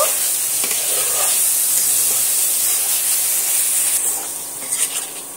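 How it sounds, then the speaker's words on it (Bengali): Sour yogurt goes into a hot pan of sizzling spice masala for a veg biryani, giving a loud, steady hiss and spray of frying that fades slightly near the end with a few sharp crackles. "টক দইটা আমি এর মধ্যে দিয়ে দেব। টক দইটা দিয়ে সুন্দরভাবে কষিয়ে নেব।"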